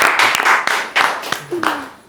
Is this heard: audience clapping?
yes